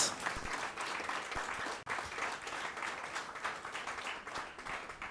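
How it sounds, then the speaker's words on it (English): A crowd at a Ghanaian political event gives a round of applause, steady dense clapping that fills the room, moderately near, with a brief drop midway. "with a round of applause and a standing ovation"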